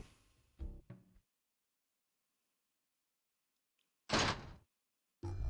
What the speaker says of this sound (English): Thought I shut that door for good.